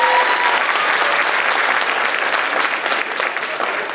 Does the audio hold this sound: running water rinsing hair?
no